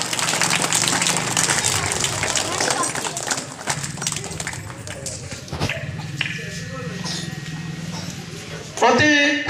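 At a school annual function, the audience claps, a dense, continuous patter of many hands. Toward the end it fades under an announcer's voice speaking over a microphone.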